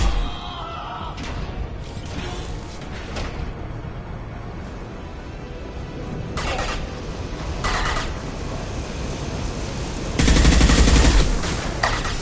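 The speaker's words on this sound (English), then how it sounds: "Firing an impact shot!" Rapid gunfire and a heavy impact shot from the video game Mass Effect 2: dense, loud bursts of shots rattle close by, with a stronger blast near the end and no voices.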